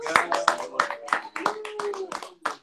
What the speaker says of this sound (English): All of you should get rounds of applause.